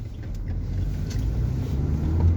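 A 2014 Dacia Logan MCV with the 1.5 dCi diesel engine cruises along, its low engine drone and road rumble steady and close from inside the cabin, with no talking.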